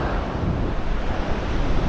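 Ocean waves break on a beach at low tide, a steady, broad roar of surf mixed with wind buffeting the microphone, continuous and fairly loud with no talk.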